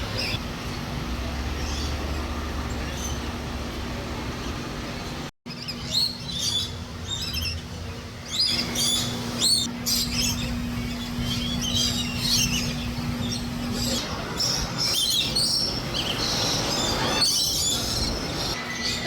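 Birds chirp and call in bright, repeated bursts around the Abdim's stork enclosure at Busch Gardens Tampa Bay zoo, over a constant low mechanical hum, growing busier in the second half.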